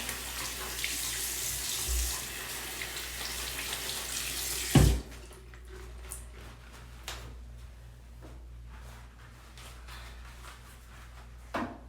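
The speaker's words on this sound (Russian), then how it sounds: "Руки сполосну на всякий случай." Hands rinsed under a running bathroom tap during toilet cleaning in an American home, a steady close gush for about five seconds that cuts off with a clunk of the handle, then faint scattered clicks and drips in a quiet room.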